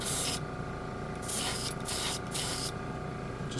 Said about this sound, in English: Compressor kicks in.